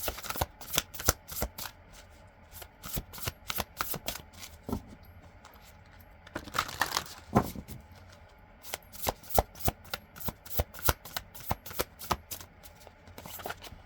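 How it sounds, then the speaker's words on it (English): An oracle card deck is shuffled by hand in rapid bursts of crisp riffling taps, with a short pause and a rustle midway before brisk shuffling resumes, close and quiet with no talk. "We're gonna see what's in this oracle real quick. Just give me one card."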